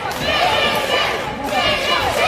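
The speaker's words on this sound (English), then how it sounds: "You can hear the crowd calling for Blaire to do something to put Jones away." A wrestling crowd at a KCXW Saturday Slam event keeps up a loud, steady roar of voices and chanting throughout, with no break and no clear individual words.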